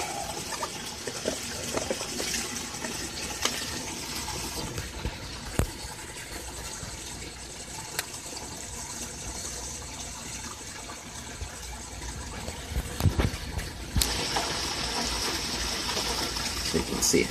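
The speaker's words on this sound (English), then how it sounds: "The drain cycle should be happening here in about a minute, maybe." Water trickles and gushes steadily as a barrel aquaponics bell siphon drains, a continuous wash of liquid noise, close by, with occasional clicks and a slight surge toward the end.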